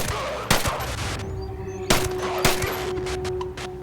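Three sharp, loud unsuppressed shots from a Vector submachine gun in the video game Ghost Recon Breakpoint, spaced roughly a second or more apart, each with a ringing tail over a steady game-world background hum.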